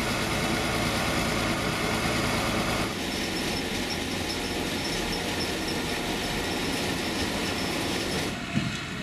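An old Danish combustion-engine train at a station gives a steady, loud mechanical rumble with rail noise. The tone shifts about a third of the way in, and a brief clank comes near the end.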